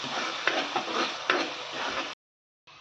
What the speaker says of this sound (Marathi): आता तेल सुटेपर्यंत आपल्याला छान हे फ्राय करून घ्यायचं आहे.